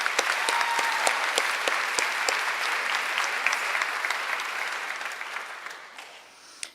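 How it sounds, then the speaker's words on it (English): Sustained crowd applause at an alumnae association annual meeting, steady dense clapping across the whole stretch that slowly tapers toward the end, with a few sharper claps standing out. "Let's give everybody a round of applause."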